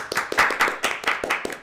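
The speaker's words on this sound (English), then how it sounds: "where are the claps?" Several people clap together in a short, uneven burst of applause, close and fairly loud, with sharp repeated hand claps over about a second and a half.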